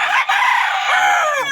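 A pet chicken crows once, loud and close, a drawn-out hoarse cock-a-doodle-doo that stands alone against a quiet background.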